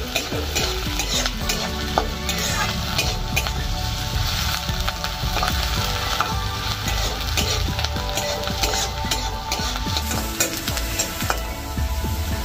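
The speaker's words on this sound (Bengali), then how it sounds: "এবার একটু এটা একটু লাল লাল করে ভেজে নেবো" Chopped onion, garlic, green chili and ginger frying together for a chicken roll filling, a continuous close crackling sizzle with frequent spatula scrapes and stirs against the pan.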